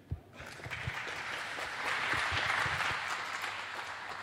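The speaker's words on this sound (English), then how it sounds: "So give a big applause for Richard." Audience applause at a lightning-talks event swells quickly after a brief pause into a steady, dense patter of clapping that holds evenly until the end.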